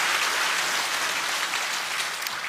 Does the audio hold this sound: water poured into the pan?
no